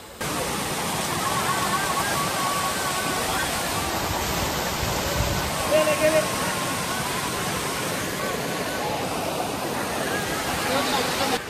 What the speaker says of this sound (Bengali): এটার পিছনে একটা ড্যাম রয়েছে যেটা ওভারফ্লো হলে এই সিঁড়িগুলো দিয়ে এরকম সুন্দর জল পড়ে